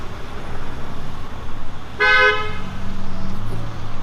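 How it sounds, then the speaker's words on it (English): A single brief car horn toot from passing street traffic near a parking lot, loud and close, with engine rumble from vehicles continuing underneath afterward. "That's a horn, not a trumpet."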